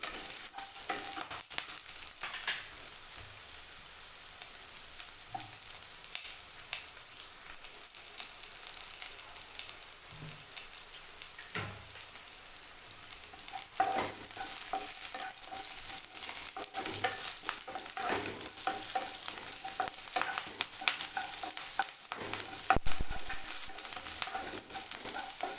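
Two dried red chillies sautéing in a pan while cooking drumstick flower egg poriyal, a steady soft sizzle with occasional stirring scrapes, close and continuous with no talking.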